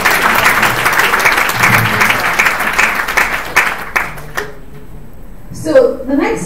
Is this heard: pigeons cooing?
no